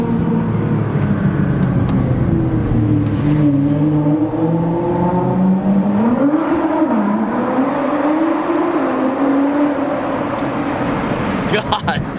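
Car engines revving and droning inside a tunnel at a large car meet, a sustained loud roar with rising and falling pitch over the whole stretch, echoing off the walls amid crowd noise.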